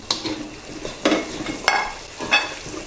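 Luffa gourd and other vegetables are stir-fried in pork fat, a quiet steady sizzle punctuated by four sharp spatula scrapes and tosses against the pan at irregular intervals.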